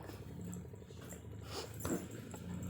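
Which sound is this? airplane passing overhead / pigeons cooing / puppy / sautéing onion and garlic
puppy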